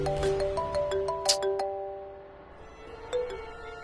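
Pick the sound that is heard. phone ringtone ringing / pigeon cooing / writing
phone ringtone ringing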